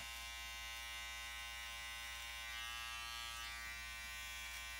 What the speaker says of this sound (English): You can just glide the trimmer or the razor over the skin